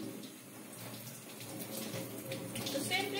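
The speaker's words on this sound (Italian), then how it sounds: "La sciacquiamo con l'acqua." Running tap water splashes steadily over wild calendula flowers being rinsed by hand, a continuous close wash with faint rattling droplets and no clear talk.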